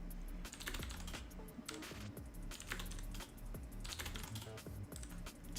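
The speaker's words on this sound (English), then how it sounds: "I'm just typing this in chat" Rapid typing on a computer keyboard while entering a capture-the-flag answer into chat, a steady stream of close key clicks with brief pauses between bursts, no voices.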